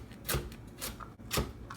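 An Instant Pot Chop & Scoop tool chops vegetables on a cutting board, giving a few slow, irregular close thuds spaced roughly half a second apart.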